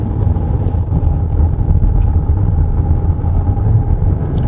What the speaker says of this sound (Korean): 차가 이렇게 엔진 숨소리가 굉장히 거칠지만은